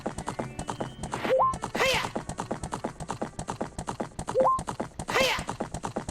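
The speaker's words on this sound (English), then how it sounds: "we now have a horse" Horse hooves clip-clopping at a steady gallop in Zelda: Ocarina of Time, crossing Hyrule Field, with rhythmic close hoofbeats and a couple of neighs breaking in, loud and up front.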